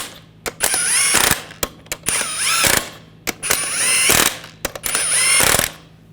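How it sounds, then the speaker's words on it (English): Lug nuts on a GMC Sierra truck wheel being run down with a power ratchet, four loud close bursts of whirring, clattering ratchet action separated by short pauses and clicks. "Get the lug nuts started. And snug these down."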